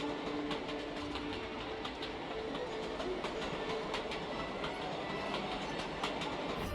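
A train runs down the Raurimu Spiral on New Zealand's Main Trunk line at about 25 miles an hour, a steady rumble with rhythmic clickety-clack of wheels over rail joints, continuous and fairly close throughout.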